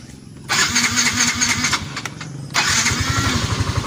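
A Yamaha Mio i125 scooter with an engine that had been cutting out cranks twice with a starter whir, then catches and settles into a steady, close, loud idle.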